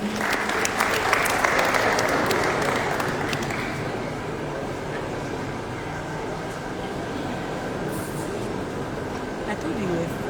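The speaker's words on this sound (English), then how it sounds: "A round of applause, please." Applause from an audience at a student tech festival panel session, loud at first and then settling into a steadier, thinner clapping that carries on for about ten seconds, with a low rumble and some background voices underneath.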